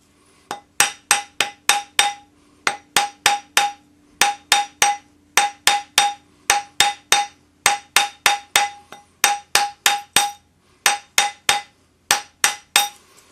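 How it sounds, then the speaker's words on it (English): A metal ring being hammered to shape, sharp ringing clangs struck in quick regular groups of four to five, close and loud with short gaps between groups. "So as you hammer it, it will compress the big side and it'll stretch the little side."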